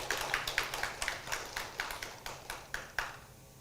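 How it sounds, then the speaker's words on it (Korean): A small audience at a political candidate debate gives a brief welcome of evenly spaced, crisp claps, about a dozen in a steady rhythm, fairly quiet and without voices. "뜨거운 환영의 박수 보내주십시오."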